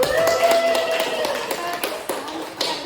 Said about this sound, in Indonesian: Kita tepuk tangan atau aplaus.